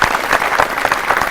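An energetic young studio audience on a Doordarshan National youth talk show claps steadily, a dense and loud wash of applause throughout.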